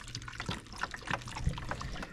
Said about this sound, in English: So pour this chicken broth in.